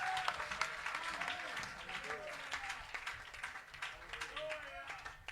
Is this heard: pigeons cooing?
no